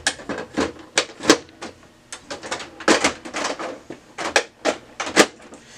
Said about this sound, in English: Once you hear it click, you know it's in there.